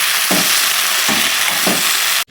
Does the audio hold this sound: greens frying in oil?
yes